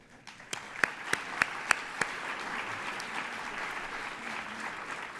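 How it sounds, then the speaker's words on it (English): Applause from a gala banquet audience at the Beverly Hills ANCA-WR annual dinner, a moderate crowd clapping at a distance, with a few sharper close claps standing out early before settling into a steady patter. "So I'd like to give them a round of applause tonight."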